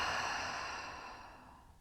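A single long, slow exhale during yoga breathing, close and soft, with an airy breathy tone that gradually fades over under two seconds.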